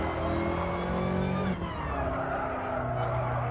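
A race car in a Spain practice session of a sim racing game brakes too late and skids, its engine droning loudly throughout with a sweeping tire squeal and downshift around the midpoint, with no talking.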